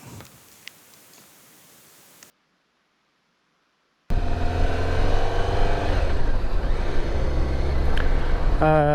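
A 1999 BMW K1200 motorcycle out on a test ride: faint rustling, then a couple of seconds of silence, then a steady, loud engine drone with rising rev tones and wind noise that runs to the end.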